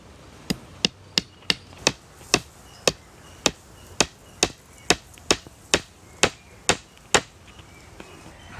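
A hammer drives 1.5-inch nails into the wooden frame of a homemade automatic egg incubator, producing about eighteen sharp, close blows in a fairly even rhythm, with no speech.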